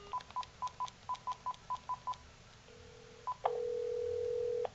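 Keypad tones from a Uniden SSE25 cordless phone on speakerphone: about ten short, evenly spaced DTMF beeps in a quick rhythm, a brief pause, then a longer steady tone, all loud and close over light hiss.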